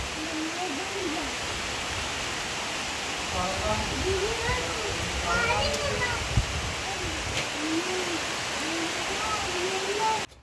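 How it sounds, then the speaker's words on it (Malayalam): Heavy, steady rain roars without a break, with children's voices and chatter faintly audible underneath. "നല്ല അടിച്ച് തകർത്ത് മഴ പെയ്യുന്നുണ്ട്"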